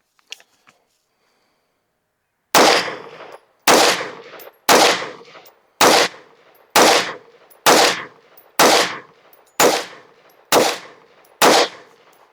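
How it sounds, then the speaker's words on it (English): Ten loud gunshots from a rifle fitted with a Monstrum X1 angled foregrip weapon light crack out one by one at a steady pace of about one per second, each with a short echoing tail, on an outdoor range. "Let's shoot a 10-shot group at that bottom left target."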